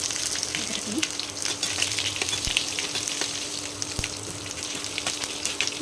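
Seasoning spices, cumin, urad dal and onions frying in hot oil for a village-style dal, a dense steady sizzle with crackles and occasional stirring taps, close and unbroken, no voices.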